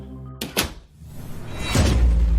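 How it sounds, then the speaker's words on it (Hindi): A door is slammed shut from outside in a horror audio drama, a sharp heavy thunk following a brief tonal sound, then a low rumbling ambience that swells afterward. "पर इस बार भी वो अंदर जाते ही दरवाजा बाहर से बंद"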